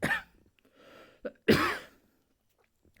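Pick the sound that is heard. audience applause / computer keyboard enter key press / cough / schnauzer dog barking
cough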